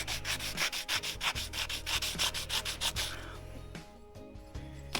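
Guitar hardware is sanded by hand with 220-grit sandpaper in quick, rhythmic back-and-forth rasping strokes, close and steady, with the strokes slowing and thinning toward the end; no one speaks.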